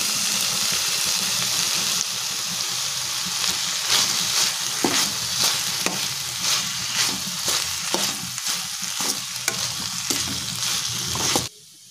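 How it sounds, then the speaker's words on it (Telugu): Boiled rice tossed with chilli garlic sauce in a hot pan, a loud continuous sizzle with regular scraping spatula strokes throughout, close by, ending abruptly near the end; no talking. "బాగా ఫ్రై అయ్యి మనం బాయిల్ చేసుకున్నటువంటి రైస్ వేసుకొని మిక్స్"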